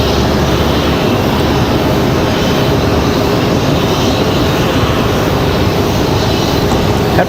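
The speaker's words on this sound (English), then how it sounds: "Republic Airways 4658, touchdown over on 5 right, coming in from JFK" A Republic Airways jet arriving from JFK touches down on runway 5 right at Raleigh-Durham, a loud, steady broadband roar of engine and rumble that holds evenly throughout without any voices.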